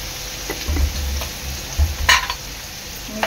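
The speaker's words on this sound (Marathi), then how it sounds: "चांगलं मिक्स करून घ्यायचं आहे" Salt is stirred into a veg Kolhapuri curry of browning onions in a pan, with soft sizzling under a few scraping spoon strokes, close and moderately loud.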